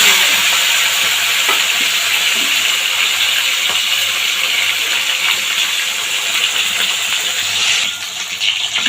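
Fish rubbed with salt and turmeric frying in hot oil, a loud, close, continuous sizzle with bubbling spatter that stays dense for nearly nine seconds and eases slightly near the end.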